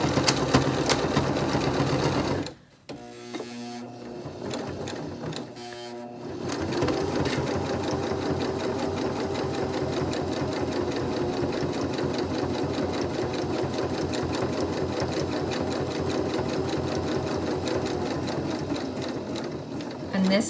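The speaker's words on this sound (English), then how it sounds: "We're gonna sew all the way around and close our opening" A sewing machine stitches all the way around a fabric face mask to close the opening and form the nose piece pocket: a fast, steady mechanical whir, briefly pausing near the start, then running continuously and close.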